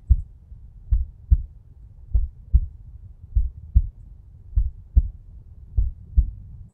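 A slow, steady heartbeat thumps in soft low pulses, each beat a paired lub-dub, repeating evenly about once a second with no other sound.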